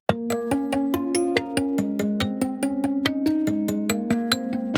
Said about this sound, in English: well, I guess it's like a bowed piano